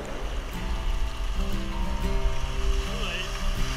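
Whitewater rapids on the LaHave River in Nova Scotia rush in a steady, loud churn close by, with a paddled boat riding through and a voice briefly heard over the water.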